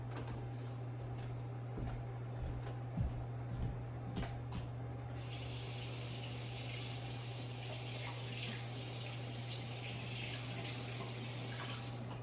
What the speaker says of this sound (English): I'm gonna wash my hands one more time before we put these in the oven